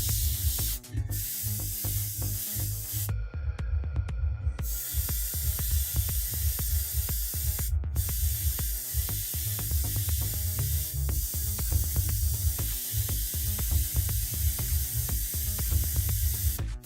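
An airbrush sprays black paint onto a monochrome airport model with a continuous, close hiss. Brief gaps interrupt the spray, and a low, busy background sound runs throughout.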